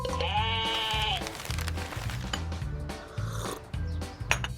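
A farm sheep gives one long, wavering bleat up front, followed by a steady, rhythmic knocking and scattered clatter in the background.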